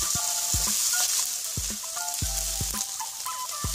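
Beef fries in a pan with a loud, continuous hissing sizzle while a utensil stirs it, producing several low thumps and scrapes against the pan, close up and with no speech.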